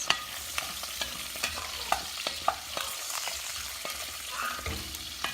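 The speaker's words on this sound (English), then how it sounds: "I'm just going to grab a spoon here and kind of toss these in the olive oil and get them a little bit browned" Chicken pieces are tossed with a spoon in olive oil in an enameled Dutch oven, browning with a soft, steady sizzle while the spoon knocks and clicks against the pot at irregular intervals.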